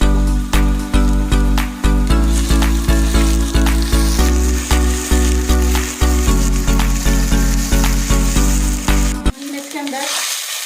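Onions fried until brown, now joined by ginger, garlic and two spoons of cumin, sizzle loudly and steadily in a frying pan for about nine seconds with rhythmic stirring scrapes, then the sizzle drops to a softer hiss.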